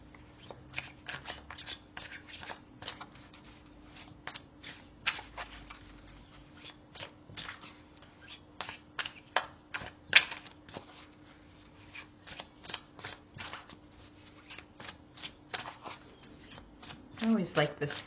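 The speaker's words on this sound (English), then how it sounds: "If I could shuffle here." A tarot deck, the Waterfall Tarot, is shuffled by hand in a quiet room, giving a run of soft riffling card flutters and taps spread across the whole stretch, with a steady low hum beneath.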